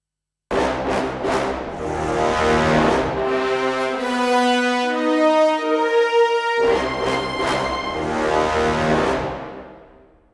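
A video game vacuum cleaner effect built from a sampled fire layered with brass: a loud sustained roaring drone with rising tonal brass bands, a brief quieter dip midway, then the full rush returns before fading out.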